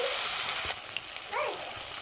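Besan-battered fritters with coriander leaves frying in hot oil, a steady close sizzle and hiss running throughout, with a brief stirring clink partway through.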